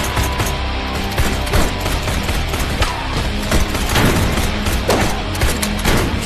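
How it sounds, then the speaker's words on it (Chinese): Gunfire in a zombie film as police open fire on an advancing horde: dense, continuous bursts of automatic shots and booms, loud and chaotic throughout, with no speech. "老警长立刻带人朝着丧尸开枪射击，并组织大家赶紧退回避难所内"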